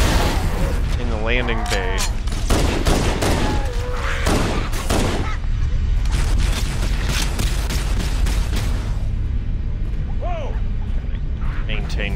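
Rapid bursts of gunfire and booms from the first-person shooter Halo: Combat Evolved during a campaign battle in a landing bay, loud and dense throughout, with game voices talking over the shooting.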